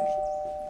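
A doorbell rings with a steady sustained electronic tone, clear and fairly close, alone without talk.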